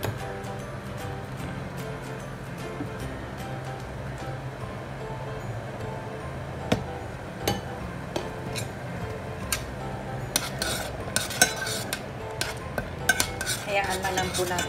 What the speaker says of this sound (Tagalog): Salain po natin ang mabuti ang bagoong.